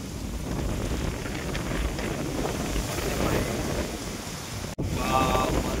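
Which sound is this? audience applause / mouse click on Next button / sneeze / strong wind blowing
strong wind blowing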